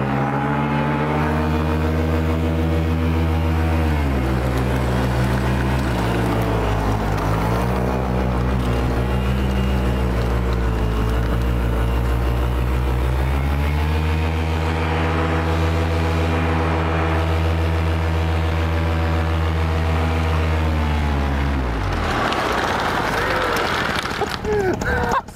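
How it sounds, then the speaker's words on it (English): Custom-built MTB drift tricycle skidding sideways with the brake held, a loud continuous grinding roar with strong low rumble that shifts in pitch, ending abruptly near the close. "Let me hold the brake and just do a skid one."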